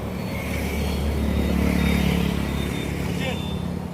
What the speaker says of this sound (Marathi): गाड्या येतात जातात.